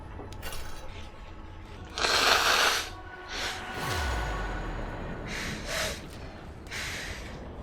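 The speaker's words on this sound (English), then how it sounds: "I need to blow my nose." A loud, forceful nose blow rushes out, with a few shorter sniffs and snorts around it and faint clinks in the background.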